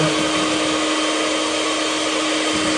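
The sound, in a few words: electric mixer mixing cake batter at low speed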